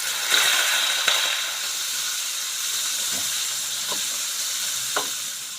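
Onions sizzle in hot oil in a pan while cooking chilli potatoes, a steady bright hiss punctuated by a few soft clinks and stirring knocks, close and continuous with no talk.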